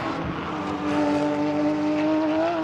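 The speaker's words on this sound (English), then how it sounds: "Let's just listen to this car." A Porsche 992 Cup race car at Spa-Francorchamps sings with a loud, sustained high-revving engine tone that rises slightly in pitch, a steady harmonic drone close by throughout.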